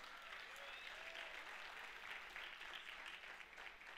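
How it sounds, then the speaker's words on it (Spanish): A church congregation applauds, a steady wash of clapping that holds evenly throughout at a faint, distant level, with a few brief tonal voice sounds threaded through it. "Dale un aplauso al Señor."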